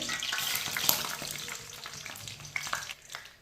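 Sugar stirred into hot oil with a splash of water in a pan while making sweet zarda rice, giving a steady close sizzle and bubbling with spoon scrapes and occasional clinks.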